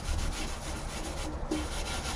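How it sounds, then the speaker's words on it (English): Abrasive pad scuffing over primer on a Rover P6 car body, a steady close rasping rub back and forth, fairly quiet with no talk. "I'll just scuff it all over,"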